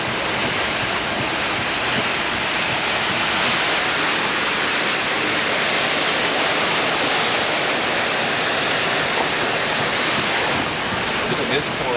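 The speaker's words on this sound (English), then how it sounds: "Look at this pour off of the falls, eh?" Floodwater pours over falls as churning white water, a loud, steady roar of rushing water with drifting mist, continuous and unbroken, with no voices over it.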